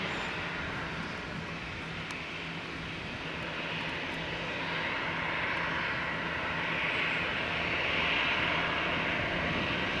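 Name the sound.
Aer Lingus airliner from Dublin arriving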